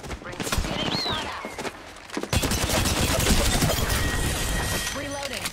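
Gunfire rattles in rapid bursts during a shooter video game while the player is under attack, loud and close, with dense volleys mixed with game effects and speech over them.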